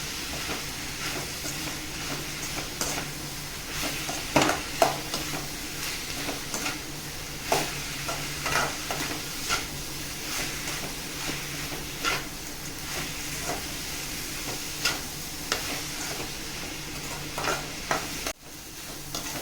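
Dried fish (karuvadu) sautés in a pan for thokku, a continuous sizzle punctuated by regular, close spatula stirs and scrapes.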